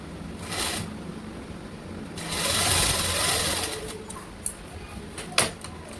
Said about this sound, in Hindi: अब इसको भी हम ऐसे सिल लेंगे